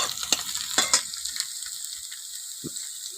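Potatoes fry in a pan with a steady hiss, broken by a few sharp clatters of stirring near the start and a single knock later on.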